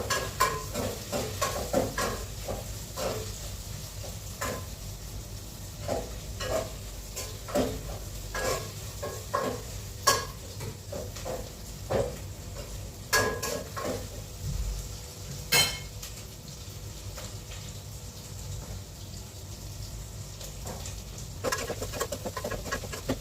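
Chicken for adobo sautés in a pan, producing a soft background sizzle with frequent sharp clinks and scrapes of a utensil stirring against the metal, close and uneven in rhythm throughout.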